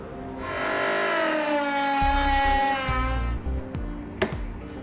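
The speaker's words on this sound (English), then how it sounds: "I'm going to be using a rotary tool" A rotary tool whines at a high, steady pitch while cutting painted bumper material on a 2007 Jeep Liberty, the tone dipping slightly under load before winding down, loud and close with a brief knock near the end.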